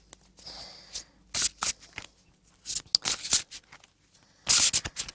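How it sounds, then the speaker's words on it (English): Bulky, thick tarot cards shuffled by hand in a series of riffling, flapping bursts, fairly close and loud, with pauses between them. "These cards are they're quite bulky because they're like fat, what I call fat cards, so they're harder to shuffle."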